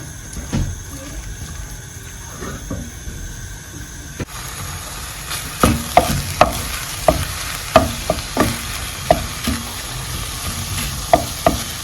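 Minced meat for a stovetop lasagna fries and sizzles in a pan without added oil, a continuous close hiss punctuated by a regular run of clacking stirring strokes in the second half.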